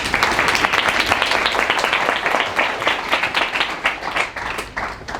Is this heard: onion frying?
no